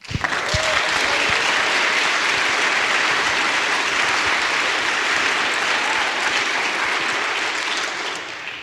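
Sustained audience applause at the Texas Tribune Festival, a thick, loud wash of many hands clapping that holds steady for several seconds before tapering off at the end.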